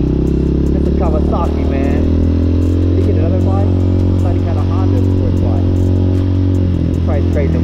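A motorcycle engine drones loud and steady from a Honda Hawk 250 on a neighborhood ride, while someone talks over it throughout and another bike is heard nearby.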